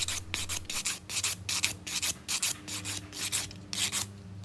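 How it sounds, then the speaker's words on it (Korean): A file works over an acrylic nail extension in steady back-and-forth strokes, about a dozen rhythmic rasping passes, close and clear with no voices. "좌측에서 우측으로, 그리고 위에서 아래로 내려가면서 손톱 전체를 다듬어 줍니다"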